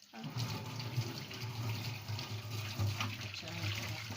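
Tap water runs steadily into a kitchen sink during hand dishwashing with a loofah sponge, a continuous close splashing flow with a low hum underneath and no talking.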